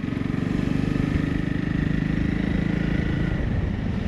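A Honda CRF 300 Rally motorcycle rides off-road on wet, muddy trails, its single-cylinder engine droning steadily and close with a rapid pulsing beat, holding an even, loud note throughout.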